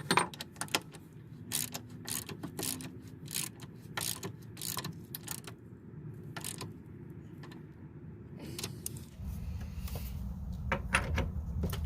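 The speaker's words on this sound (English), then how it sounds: "So once that's started in, I'm going to tighten it down." Clicking ratchet work as a bolt is tightened while installing a rear coil spring on a Chevy Tahoe, a quick run of close, sharp metallic clicks and clanks with no talk.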